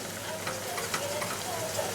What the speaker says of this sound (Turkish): Salçayı da birlikte de sarımsakları ekliyorum ve kavuruyorum